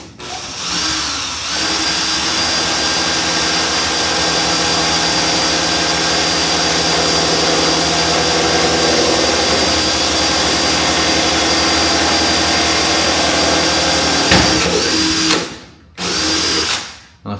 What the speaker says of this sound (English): bolt that I'm drilling through, the nut that I'm drilling through.